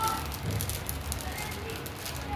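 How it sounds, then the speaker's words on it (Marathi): Malvani amboli, a rice pancake, roasting on a hot pan until reddish on both sides, a soft steady sizzle and crackle heard close, with a voice talking over it. "आता दोन्ही साईडनी एकदम लालसर होईपर्यंत चांगलं भाजून घ्यायचं"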